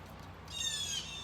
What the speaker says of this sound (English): there goes the blue jay squawking